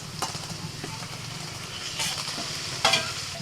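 Marinated chicken goes into hot spiced oil and sizzles steadily, with a few louder bursts and clatters of stirring close by.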